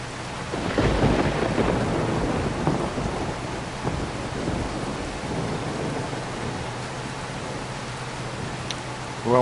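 Rain and thunder in Farming Simulator 25 on PS5, on the Elm Creek map: heavy rain hisses continuously while deep rumbles of thunder roll through, loud and close, with no talking.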